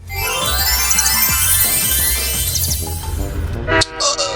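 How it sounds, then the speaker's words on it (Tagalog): A loud train horn in a Subway Surfers video game blares in a long sustained toot, growing stronger before breaking off into short bursts near the end. "Naririnig nyo rin ba yon? Parang may dumarating na tren."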